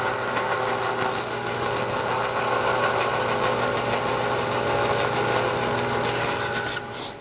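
A wooden panel is being cut out for a steamer trunk with a power tool, producing a continuous loud, harsh rasping whine that holds steady for several seconds and then stops abruptly near the end.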